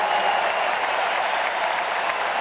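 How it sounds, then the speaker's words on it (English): Tennis crowd at the 2024 US Open applauding and cheering for Nuno Borges during his fourth-round match against Daniil Medvedev, a dense steady wash of clapping that fills the whole stretch without pause. "the fans right now cheering Borges"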